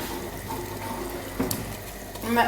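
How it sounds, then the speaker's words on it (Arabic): Water pours into a soup pot holding fried chickpeas, a quiet, steady splashing rush that grows slightly louder toward the end. "نضيف الماء"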